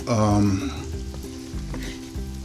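Flour cooking into a roux in a white clam sauce for linguine sizzles steadily in the pan, with brief stirring knocks under a short burst of voice at the start.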